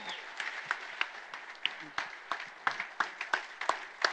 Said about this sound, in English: Let's give Melanie a round of applause.